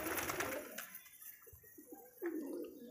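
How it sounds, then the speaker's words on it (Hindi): A flock of colourful pigeons takes off in a brief burst of fluttering wings, followed by a few faint, soft coos. "ये देखिए अब इसने सारे कबूतर उड़ा दिए"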